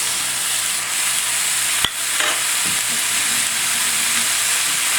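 Mutton sizzles loudly and steadily in a hot pan with onions and garlic, a dense continuous frying hiss with a brief clatter partway through.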